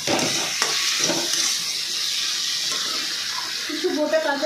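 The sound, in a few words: stirring spiced fish curry in a pan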